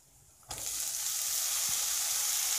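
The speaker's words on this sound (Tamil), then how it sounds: "ஸோ இப்போ வெங்காயத்தை போட்டுடுறேன்" Onions hit hot oil for a South Indian masala dosa filling, bursting into a loud, sudden sizzle that holds as a broad, steady hiss close by, with a faint utensil tap partway through.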